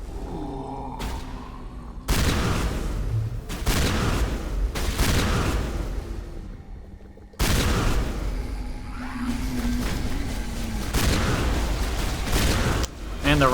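Gunfire against enemies in the video game Mass Effect, loud repeated bursts of booming shots in several blocks, with brief gaps between volleys and some talk.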